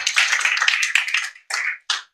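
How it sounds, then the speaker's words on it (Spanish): Loud, dense applause from a church congregation claps steadily, then breaks into two short final bursts separated by brief silences. "Dale un fuerte aplauso al Señor Jesucristo."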